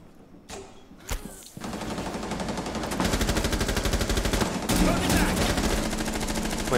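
Rapid automatic gunfire from an operator's weapon in the game Rainbow Six Siege, a dense continuous burst running for several seconds after a few separate shots, loud and close.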